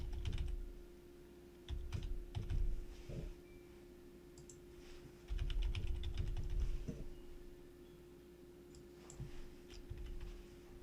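Someone enters a password on a computer keyboard, with short bursts of close key clicks separated by pauses over a steady low room hum.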